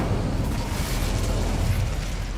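A fire spell cast in the Hogwarts Legacy video game, a loud, steady roaring burst of flame that fills the whole moment with dense, rumbling low-end noise and no clear break.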